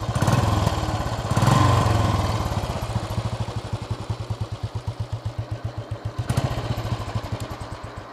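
Royal Enfield Bullet 500 motorcycle engine running after a kick-start, a close single-cylinder thump settling from a revving start into a slow, even, loping idle.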